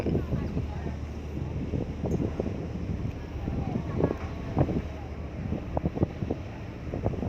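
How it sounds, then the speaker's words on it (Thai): Raja Ferry boat sailing toward Koh Phangan, a steady engine drone and rushing water with wind buffeting the microphone, loud and constant under someone talking. "ก็เรือแล่นมาได้สักประมาณครึ่งชั่วโมงแล้วครับ"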